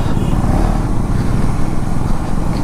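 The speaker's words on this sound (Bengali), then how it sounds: "সমিতেশ চালাচ্ছে আমার হাইনেস, আর আকাশ চালাচ্ছে নিজের ডিউক 390।" A Honda Highness and a KTM Duke 390 ride toward a highway, their engines a loud, steady motorcycle drone mixed with wind rush, close and unbroken throughout.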